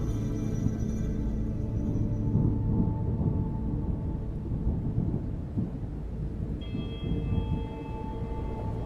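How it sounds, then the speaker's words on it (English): Heavy rain pours steadily while deep thunder rumbles low throughout in an animation, with no voices present. "The sound of the rain appeared to startle them"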